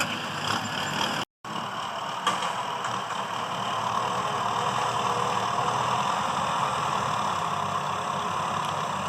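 Kubota M6040 SU 60 hp turbocharged tractor engine running steadily at a near, even idle, broken by one brief dropout early on.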